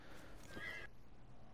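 A horse in the video game Dragon Age: Inquisition whinnies briefly, a short rising neigh over a steady low background of game ambience, with faint hoof clip-clop underneath.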